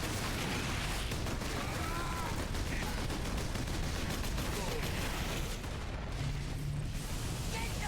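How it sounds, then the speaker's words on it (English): An assault rifle firing explosive shells in a Warhammer video game, giving a dense, continuous roar of rapid shots and blasts, with occasional mechanical clanks and a voice speaking under the din. "I'm one-handing an assault rifle that shoots explosive shells"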